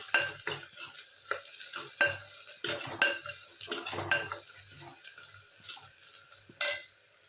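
Tomatoes and onions frying in a pan with turmeric and salt for a jackfruit curry, a steady sizzle broken by repeated scraping stirs of a spoon against the pot, close and alone without talk.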